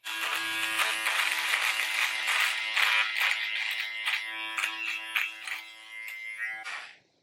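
A Kemei KM-5031 electric clipper trimming a beard, a close, steady high buzz with shifting tone as it moves through the hair, running alone for about seven seconds before cutting off.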